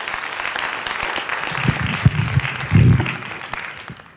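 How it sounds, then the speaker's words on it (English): Applause from a workshop audience on leadership and team building through improv, welcoming a volunteer to the stage; steady dense clapping fills the room, with a voice briefly rising over it near the end. "Give her a round of applause, please."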